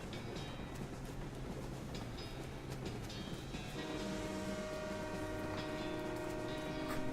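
A train rumbles steadily along in the West of Loathing video game, a continuous dense rolling clatter with a horn-like tonal drone joining partway through, loud and without talking.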